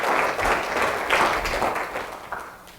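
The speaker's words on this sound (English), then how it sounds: "Let's give him a big round of applause" An audience gives a speaker a round of applause: full clapping close by that swells at first, then thins and fades toward the end.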